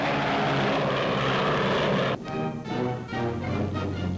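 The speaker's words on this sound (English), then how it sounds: "Even when flying on only one of its powerful twin motors, Canada's Mosquito bomber carries a deadly sting." A twin-engine Mosquito bomber drones loudly overhead in a wartime newsreel; a steady roar runs for two seconds, then breaks into a pulsing, uneven propeller engine hum.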